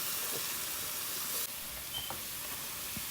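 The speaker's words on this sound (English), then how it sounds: "Now again I'm gonna let this veggies cook into this sauce for about a minute" Mixed vegetables simmering in a spicy sauce with chili flakes in a pan on the stove, giving a steady close sizzle and hiss with a few faint clinks.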